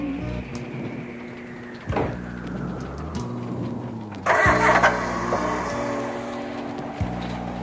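Car engine being cranked repeatedly in a building's lot, long strained starter churning with pauses and a brief louder burst, never catching and settling, with rain-like hiss in the background.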